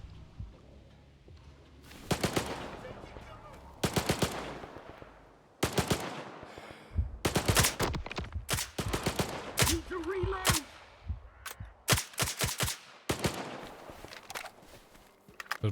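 Rapid bursts of gunfire in a first-person shooter set in the Zone, with single shots and machine-gun strings ringing out close and loud in clusters separated by short pauses.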